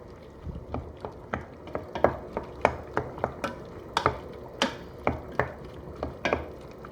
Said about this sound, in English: We stir it now a bit.